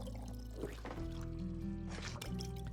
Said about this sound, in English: Oh, did I pour too much? I pour too much.